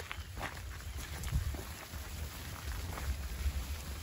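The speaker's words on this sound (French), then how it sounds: "il pleut tout le temps ici" Steady rain pattering on a tent while hiking across New Zealand, a dense continuous hiss with scattered louder drops, close and even throughout with no voices.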